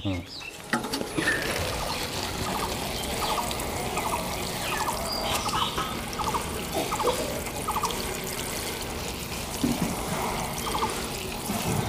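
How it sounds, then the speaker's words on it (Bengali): Newly planted succulent seedlings are watered, a steady trickle and splash of water running into potting mix, close and continuous, with a voice speaking briefly. "এইবার এই চারাগুলোকে আমি জল দেবো।"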